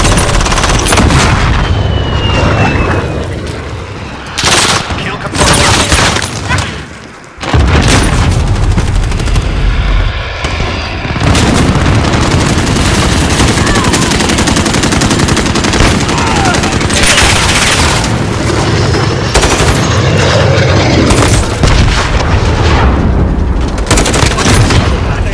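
Dense, continuous gunfire and booming blasts fill a Call of Duty: Modern Warfare firefight, with rapid automatic bursts and heavy impacts running nearly nonstop, broken by a brief lull before the barrage resumes.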